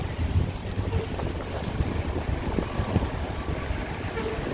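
Wind gusting through downtown Chicago streets on a rainy day, a steady, rough rush with buffeting on the microphone and low rumble throughout, no voices.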